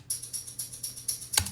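Green plastic toy shaker from a children's percussion set, shaken in a steady rhythm of about nine bright rattling strokes, double tracked wide, ending with a sharper accented hit.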